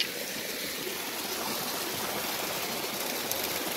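Mountain stream on the Choquequirao trek near Chiquisca, Cusco, Peru, flowing steadily in a constant broadband rush of water, close and even throughout with no talk.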